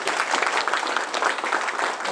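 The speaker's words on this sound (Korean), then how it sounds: "다시 한번 토론 대담자들에게 큰 박수 부탁드리겠습니다." A local forum audience of residents applauds the panel discussants, dense continuous clapping from many people filling the room at fairly close range, no speech over it.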